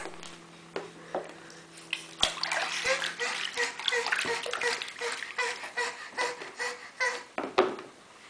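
Water splashes and sloshes in a small child's bath, with a run of irregular splatters and soft dripping at close range, mostly without talk.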